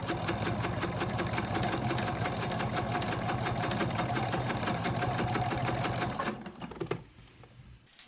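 A sewing machine runs a long, fast, steady burst of basting stitches along the bottom of a slim leather-style wallet, its rapid needle chatter close and loud before stopping with a few clicks.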